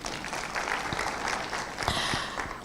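Audience applause at a national summit on substance use and drug trafficking, a brief dense patter of clapping from a seated crowd at moderate level, with no speech over it.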